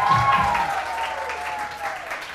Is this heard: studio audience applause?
yes